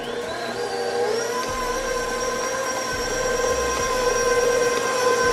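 Electric mixer whirring steadily as eggs are added to dark Caribbean black cake batter, a loud continuous motor drone with a slowly shifting pitch, close up and without talk.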